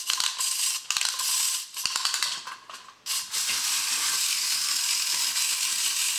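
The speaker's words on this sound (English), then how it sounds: "I know his head moves, he walks, and his brush moves. You wind him up." A wind-up toy cleaning robot, made in China, whirs with a dense, fast mechanical buzz of spring-driven gears as it walks and moves its head and brush, close and loud, briefly stuttering before running on steadily.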